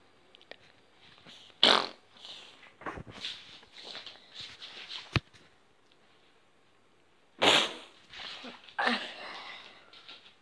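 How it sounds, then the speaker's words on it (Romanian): A fart in a quiet indoor room, with two short bursts of noise several seconds apart and soft rustling and shuffling between them. No one speaks. "să dau o bășină."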